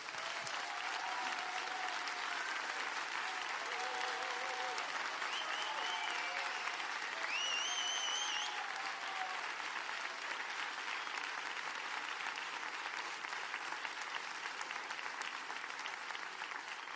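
Sustained audience applause at a live Catalan singer-songwriter concert, a dense steady clapping from a large crowd that fills the whole stretch, with a few brief tonal notes near the start and no talk.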